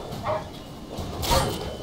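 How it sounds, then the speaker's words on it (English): A dog barks twice in The Witcher III: Wild Hunt, short yelping barks spaced about a second apart, moderately loud over faint game background noise. "Bad dog."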